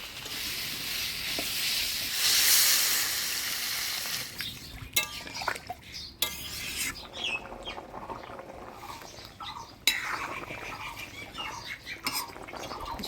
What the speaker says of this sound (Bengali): অল্প জল দিয়ে মশলার সাথে আলুটা একটু কষে নেব